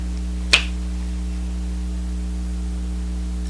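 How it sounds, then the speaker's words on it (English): A single sharp finger snap, made to trigger a Pivo camera mount, stands out clearly near the start against a steady electrical hum, followed by silence. "with the finger snapping"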